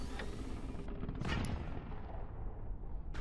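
Nuke and mortar volley in the Forts RTS game, a dense rumbling barrage of booming blasts and crackling impacts that rolls on for a few seconds, loud and alone without talk.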